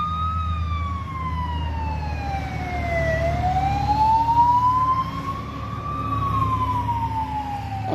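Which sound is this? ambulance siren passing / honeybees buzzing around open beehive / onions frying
ambulance siren passing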